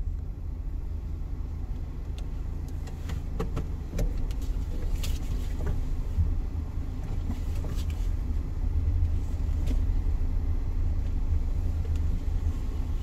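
Car driving through south Atlanta toward the Mercedes-Benz Stadium, a steady low road rumble from inside the cabin with faint clicks and rattles throughout.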